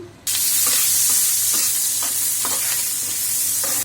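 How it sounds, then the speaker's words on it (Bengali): Ginger garlic paste fries in a pan for a vegetable curry of eggplant, tomato and pointed gourd, a loud sizzle that starts abruptly and runs on evenly with faint scraping strokes underneath, no voices. "আদা রসুনটা একটু ভেজে নিব যাতে কাঁচা গন্ধটা না থাকে"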